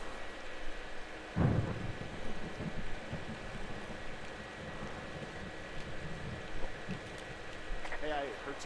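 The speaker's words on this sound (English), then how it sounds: "Hey, I heard some thunder." Thunder in the video game Firewatch, a low rumble rolling through steady wind and rain ambience, with a heavier crack early on, moderately loud and unaccompanied by speech.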